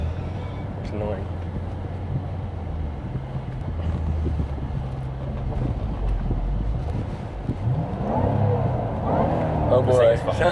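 A 2007 Ford Mustang Shelby GT500 engine drones low while driving, a steady rumble under wind buffeting that grows louder toward the end, with people talking over it.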